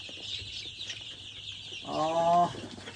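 12-14 day old local chicks and chickens cluck nearby over a steady background hum, with a louder burst of clucking near the end.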